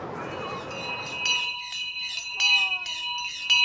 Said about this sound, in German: Eine halbe Stunde vor Schließung des Tierparks wird bei Hagenbeck geklingelt.